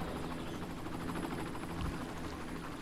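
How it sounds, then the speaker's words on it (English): Helicopter in the Cities: Skylines city-building game during a thunderstorm, a steady dense whirring drone with fast rotor chop holding at even loudness throughout, no talk over it. "Helicopter."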